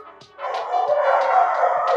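A dog named Diva barks and howls close by, a few short yips breaking into a sustained, loud, wavering howl that carries on without pause.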